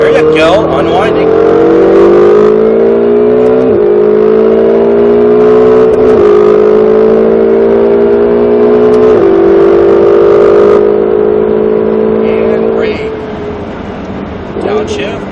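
A Ferrari 488 GTB engine accelerating hard around a track, rising in pitch through several gear changes with brief dips between shifts, loud and close from inside the car, with a driving instructor talking over it.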